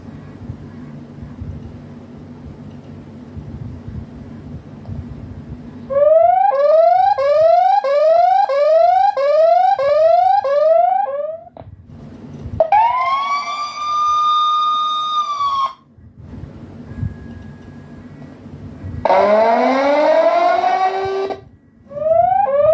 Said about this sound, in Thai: อันนี้เป็นเสียงเตือนนะครับ